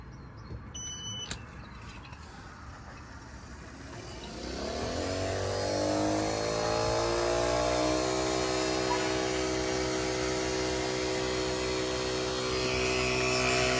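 A Hercules 20v brushless cordless HVAC vacuum pump, hooked to a 3/8 to quarter hose with valves wide open, spins up from quiet around four seconds in and settles into a loud, steady motor whine and drone that holds to the end.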